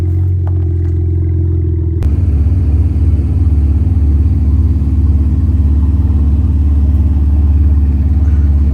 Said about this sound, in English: all these cars idling at the same time sounds crazy